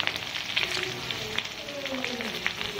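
Hot oil sizzles and crackles steadily as chillies fry, with bursts of spitting popping through the continuous hiss.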